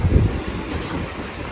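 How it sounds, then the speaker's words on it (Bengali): A train rolling through a railway station, a loud close rumble of wheels on track with a thin metallic squeal above it. "কতদিন পরে ট্রেনের সামনে দাঁড়িয়েছি"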